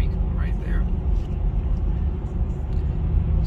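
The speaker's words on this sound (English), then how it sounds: "Sorry for that road noise." Steady low road rumble from a car driving through the streets of a small town, continuous and fairly loud throughout, with no talking.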